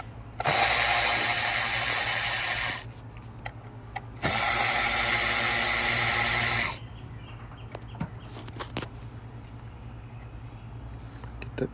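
10 mm bolts being removed from the valve cover of a 2007 Honda CR-V 2.4, with two long, loud buzzing runs of a power ratchet close by, followed by light clicks and taps of metal parts.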